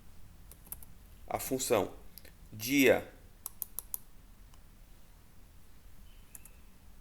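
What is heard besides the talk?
typing an Excel formula on a computer keyboard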